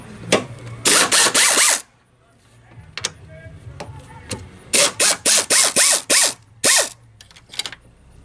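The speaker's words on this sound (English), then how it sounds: "We'll use the little Astro mini ratchet. This thing surprisingly has quite a bit of power." An Astro mini ratchet spins a strut nut onto its threads on a 2007 Chevy Impala, in about a dozen loud, rapid buzzing bursts, a few quick ones early and a longer run of close-spaced bursts later, with quieter clicks and handling noises between.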